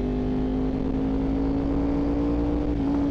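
Honda VFR 750 motorcycle engine running at a steady idle or light throttle, a close, even hum with a constant tone and no revving, heard alone.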